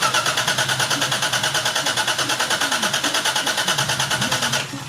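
A rebuilt Toyota 1JZ engine with a new manifold, turbo and clutch runs close by after starting, with a rough, evenly pulsing idle. It holds for several seconds, then sags abruptly near the end.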